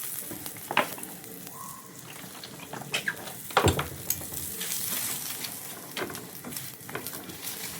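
Food fries in a little oil in a pan with a continuous close sizzle, broken by a few sharp clatters and scrapes of utensils against the pan.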